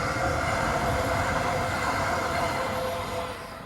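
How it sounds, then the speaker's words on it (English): A train rumbles past steadily and fairly close in Switzerland, a broad continuous roar with faint wheel squeal that eases off slightly at the end. "There's the train."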